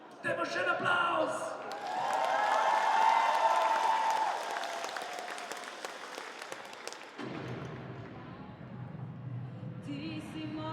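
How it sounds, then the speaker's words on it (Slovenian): A large indoor crowd at a dance show event applauds loudly, swelling to a dense peak of clapping with a few whoops, then fading as music takes over. "Dajmo še en aplavz!"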